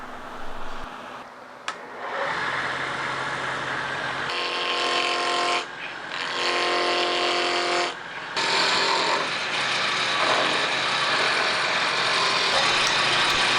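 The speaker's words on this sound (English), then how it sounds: "I'm going to mount this between centers and rough it down to round." A wood lathe roughs an epoxy and twig vase blank to round between centers, giving a steady, close motor hum with a scraping, rattling cut that comes in bursts and briefly pauses twice.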